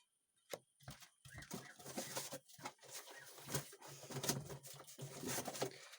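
Uzbek double-crested pigeons coo and flutter close by amid rustling and scattered clucking sounds, with irregular bursts of activity throughout.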